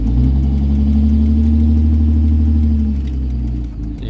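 Traffic on a road near a pickup truck set up for pintle towing, a steady nearby engine rumble with a sustained drone that fades slightly toward the end, no talking.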